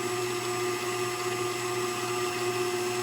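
An electric mixer whisks egg whites with cream of tartar on high speed for whoopie pie filling, giving a steady, loud motor whine that holds without a break.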